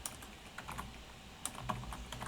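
Computer keyboard being typed on in quick irregular bursts of clicks, close and quiet with no voices.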